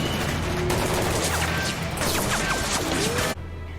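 Rapid gunfire and crashing impacts in a Doctor Who episode, a loud dense burst of shots lasting several seconds under a sustained low drone, then cutting off abruptly.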